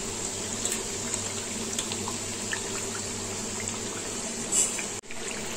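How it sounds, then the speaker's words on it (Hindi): Namkeen snacks deep-frying in hot oil give off a steady, close bubbling sizzle with a constant hiss. Brief clatters break in near the end. "नमकीन को दोनों ओर से उलट पलट कर डीप फ्राई करेंगे।"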